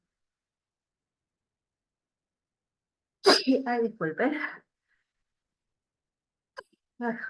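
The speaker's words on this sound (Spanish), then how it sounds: "me dio por estornudar" A single sharp sneeze bursts out during a Spanish anatomy lecture, followed by a short spoken apology from the lecturer in an otherwise quiet room.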